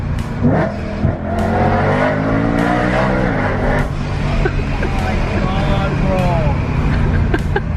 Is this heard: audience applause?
no